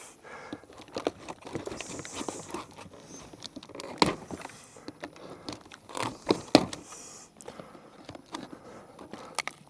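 A knife slices through packaging to free an Axial SCX10 SR5 Hilux RC truck, with scattered crinkling, tearing and rustling plus a few sharp clicks and taps, close by with no talking.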